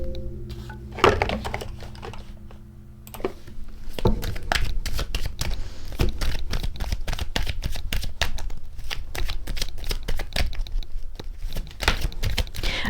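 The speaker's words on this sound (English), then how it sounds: "I'm just going to pull to see if there's anything that needed to say out of my crime deck" A tarot crime deck being shuffled by hand: a brief pause, then a dense run of quick papery riffles and card flicks, close and continuous, with no talk.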